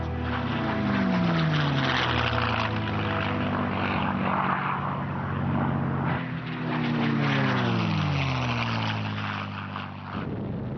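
A propeller fighter plane with a British Rolls-Royce Merlin engine drones loud and steady, its pitch sliding up and down as it passes.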